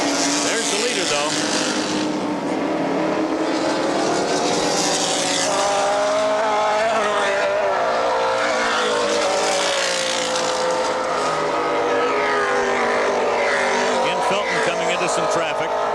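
Race cars roar through the 1982 IMSA Kelly American Challenge at Lime Rock Park, running on rain tires. Engine noise is loud and continuous, with a commentator talking over it throughout.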